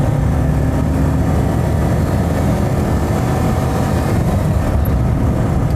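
A 1983 Citroën Visa Spécial with a twin-cylinder engine drives along a rough road, its steady, loud engine and road drone filling the cabin without a break as the engine is worked hard through the revs.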